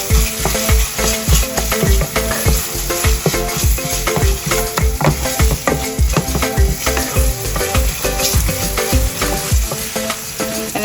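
Tomato paste for a meatless baked ziti sauce is stirred and broken down in a hot pan, giving loud, rapid, rhythmic scraping and knocking strokes that continue steadily over a constant sizzle.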